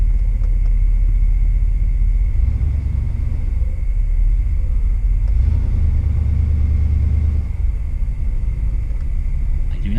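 Engine of a 1991 Cadillac DeVille held at steady revs with the accelerator pressed, a loud continuous low rumble that swells slightly midway, heard up close from inside the car with no talking.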